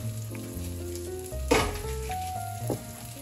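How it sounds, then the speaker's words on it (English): Butter dropped into a pot of hot boxed macaroni sizzles and fries steadily, with a brief louder burst of sizzle and stirring midway, close and without talk. "So you're gonna go ahead and put in your butter,"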